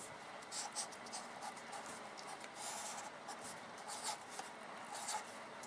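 A pen scratches across paper while working out a high-school math exam problem on matrix cofactors, in close, irregular bursts of strokes with brief pauses.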